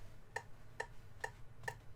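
Four crisp, evenly spaced metronome ticks, about half a second apart, sharp and clear over a faint low hum.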